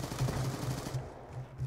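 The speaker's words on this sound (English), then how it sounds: "I got shotguns going on here." Rapid gunfire from a multiplayer Black Ops 2 match on PC, a fast stuttering run of shots that fills the whole short stretch at moderate loudness.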